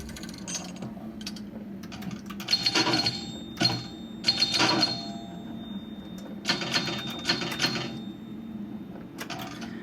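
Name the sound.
virtual pinball gameplay, Gottlieb 2001 table, video game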